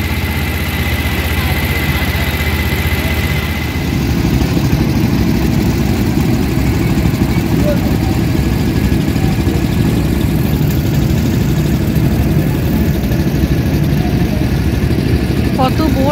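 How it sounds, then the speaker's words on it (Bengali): Boat engines on the Ganges at Varanasi near Namo Ghat give a steady low droning rumble that holds throughout and grows slightly fuller after a few seconds. Faint voices are present beneath the engine noise. "কত বোট যাচ্ছে আশপাশ দিয়ে।"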